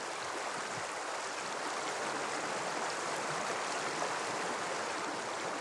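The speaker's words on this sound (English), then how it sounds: "the first thing I hear is the beautiful sound of this river" A half-frozen river in northern Norway, flowing between ice and open water, rushes with a steady, dense churning wash, continuous and fairly loud with no voices.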